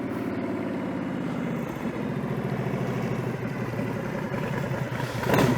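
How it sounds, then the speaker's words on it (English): A 2004 Big Dog chopper motorcycle idles nearby, its engine a steady, lumpy rumble with a slight clatter that swells a little louder at the very end. "So, story on this bike is a Big Dog 2004, right, Phil?"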